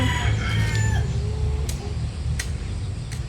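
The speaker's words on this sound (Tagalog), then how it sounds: "so ito pa rin yung mga manok natin" Chickens crow and cluck close by, a rooster's call rising over steady outdoor background noise with a few sharp clicks.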